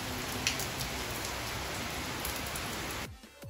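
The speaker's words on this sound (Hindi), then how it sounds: "देखिए बारिश बहुत ही बढ़ चुकी है अभी" Heavy rain pours steadily in cold weather, a dense, loud, even hiss of falling water that cuts off abruptly near the end.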